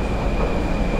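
A metro train rumbles through an underground station near the escalators, a short steady roar of wheels on rails with a faint high whine on top.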